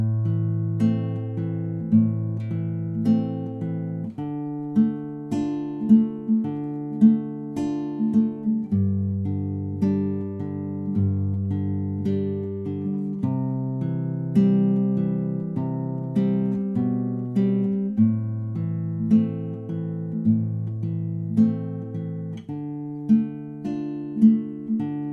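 Guitar plays the chorus of a song, picked bass notes and plucked strings in a slow, steady pattern, clear and close with no voices.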